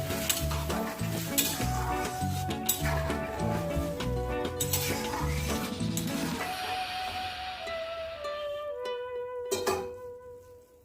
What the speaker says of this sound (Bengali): গুঁড়ো হলুদটা ভালো করে মিক্স করে দিচ্ছি।